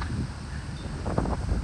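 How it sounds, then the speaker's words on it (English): Gusty wind at Daytona Beach buffets the microphone, low rumbling surges rising and falling over a soft background rush. "Ooh, it's windy."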